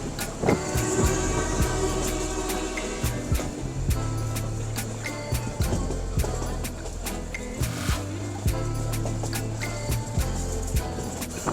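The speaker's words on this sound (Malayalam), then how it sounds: "അടുത്ത ടണലിലേക്ക് കയറാൻ ട്രെയിൻ" The 125-year-old Ooty mountain train runs from Ooty toward Coonoor and nears a tunnel, its wheels and cars rattling with a steady run of sharp clicks and clanks over a continuous rumble.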